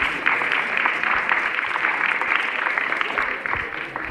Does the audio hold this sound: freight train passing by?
no